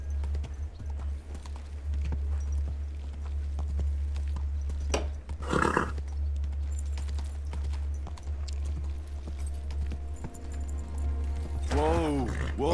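A horse in a video game clops along steadily under a constant low hum, with a loud neigh near the end. A voice speaks over the action.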